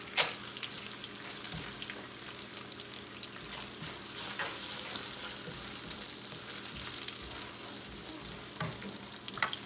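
Onions frying in a pan for smoked eggplant bharta give a steady, close sizzle that crackles throughout, with a few sharper pops and occasional stirring scrapes and no voices.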